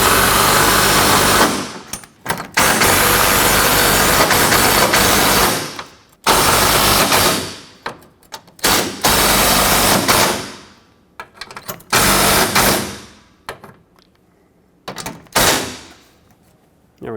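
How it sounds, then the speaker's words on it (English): A power tool drives self-tapping bolts that cut their own threads into the upper radiator support of a 2009–2014 Ford F-150, giving loud, close whirring bursts of a few seconds each with short pauses between them and no talking. "These bolts also have to cut their own threads."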